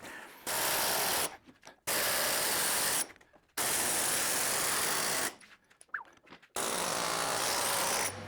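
An old hydraulic bottle jack being pumped in bursts of steady mechanical ratcheting and clicking, separated by short pauses, close and fairly loud with no talking.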